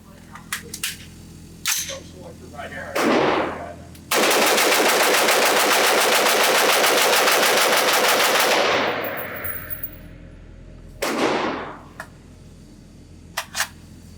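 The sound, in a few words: Knight's Armament SR-15 pistol rapid-fire mag dump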